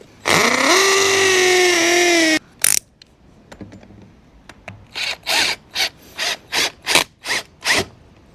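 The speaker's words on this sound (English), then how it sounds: "So I'm going to temporarily screw it into this one just for now." A power driver whines in a steady high buzz while a bolt is screwed into an outdoor kitchen post, then after a pause a series of about nine rhythmic ratcheting clicks follows, loud and close.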